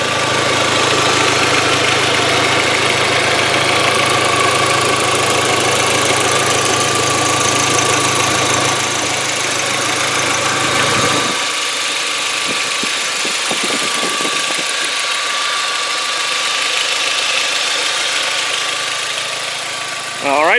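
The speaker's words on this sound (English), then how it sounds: "Good running motor here" The 1.8 turbo four-cylinder engine of a 2005 VW Passat idles smoothly and steadily at close range, a constant even hum with faint mechanical ticking that shifts slightly as the listening position moves.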